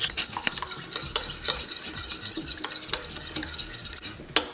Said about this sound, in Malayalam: നന്നായിട്ടൊന്ന് മിക്സ് ചെയ്യാം.